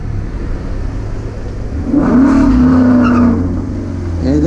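A street-tired Mustang race car launching at an autocross course, its engine rumbling loud and close, then rising in pitch as it revs hard and pulls away over a steady low drone.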